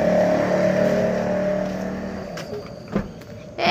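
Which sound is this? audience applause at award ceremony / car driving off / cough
car driving off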